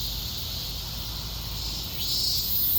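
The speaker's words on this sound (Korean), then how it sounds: "매미 소리 잔치가 벌어지고 있습니다." A steady high-pitched insect drone fills a forest, a dense chorus of cicadas buzzing continuously and swelling slightly louder near the end.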